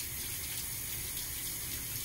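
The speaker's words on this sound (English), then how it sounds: "Do they come off if I just wash with water?" Tap water runs into a sink as hands are washed, a constant close hissing gush of flowing water with no voices.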